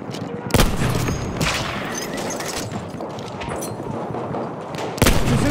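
Gunfire rages through a Battlefield 1 battle: a loud blast at the start and another near the end, with dense continuous shooting and rumble between them and faint voices underneath.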